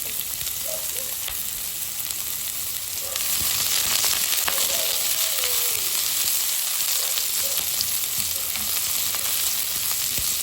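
Pineapple tidbits sautéing in a hot pan, a continuous loud sizzle that grows a little stronger partway through, with faint stirring scrapes and no talking.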